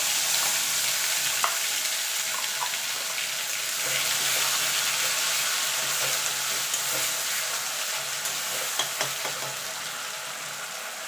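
Spice paste frying in oil with whole cumin for a chicken and potato curry sizzles steadily, with scattered stirring clicks and pops from a pan close by.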